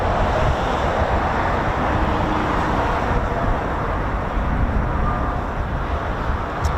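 A US Air Force KC-135 Stratotanker taxis at RAF Mildenhall, a broad steady jet roar at moderate distance with wind buffeting the microphone and no voices.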